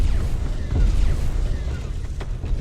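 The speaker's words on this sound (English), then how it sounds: "Oh, looks like Nova Cannons have been fired." Deep rumbling booms and bursts of heavy Nova Cannon fire roll continuously in a Space Engineers PvP space battle, loud and low with scattered sharper blasts.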